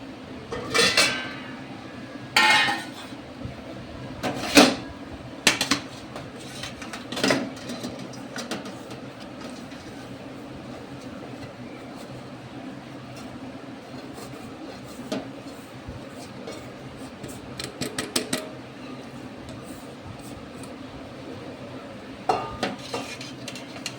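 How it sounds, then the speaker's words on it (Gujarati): Besan flour is sieved through a metal grain sieve, with scattered clinks and taps of metal against a bowl standing out over a soft, steady background. "હવે આપણે ચારણી લઈને આને ચાળી નાખશું"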